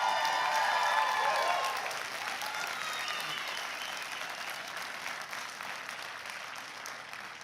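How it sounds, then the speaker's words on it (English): Audience applause and cheering at a graduation ceremony, starting with whoops and whistles over the clapping, then settling into steady, dense applause that continues evenly to the end. "feel free to clap, whistle, yell when you feel it's appropriate"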